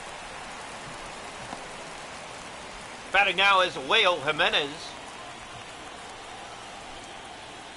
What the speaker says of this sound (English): It's a rainy night in New York